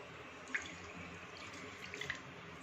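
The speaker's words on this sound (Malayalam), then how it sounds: "ഇനി നമുക്കൊരു അരക്കപ്പ് വെള്ളവും കൂടെ ഒഴിക്കാം" Half a cup of water poured into a pan of milk for a breakfast drink made with string-hopper flour, a soft steady watery stream with a couple of light splashes, close and quiet.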